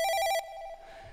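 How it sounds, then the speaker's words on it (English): Xfer Serum synth patch using interval LFO shapes gives a telephone-like trilling ring, a rapid warbling tone that drops to a single held pitch and fades within about a second, alone and moderately quiet. "It's like telephone, like dub siren kind of sounds."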